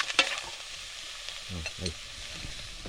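Squirrel meat frying in hot oil, a faint steady sizzle at moderate distance with a sharp clack near the start and a brief murmur of voices partway through.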